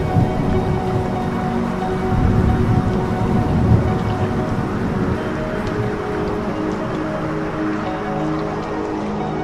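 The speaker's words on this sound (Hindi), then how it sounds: "नदी के उस पार से बारिश की आवाज़ आ रही है," Steady rain falling across a river, a dense continuous hiss of drops with a low rumbling undertone, fairly loud and unbroken throughout.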